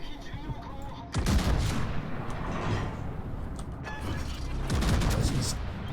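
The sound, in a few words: battleship gun salvo firing in World of Warships video game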